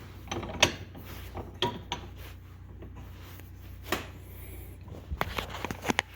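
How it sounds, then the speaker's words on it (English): A metal rod is set into a bench vise and clamped down while converting an electric window to manual. Scattered metallic clicks, clunks and ratcheting knocks come close and fairly faint over a low hum. "So I'm just gonna stick this thing in the vise, right where my 5/8 starts."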